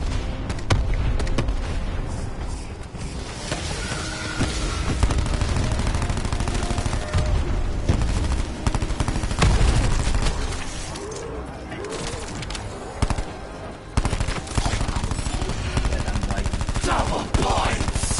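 Sustained automatic gunfire from video game weapons rattles almost without pause, dense and loud, with explosions and mechanical clatter mixed in throughout.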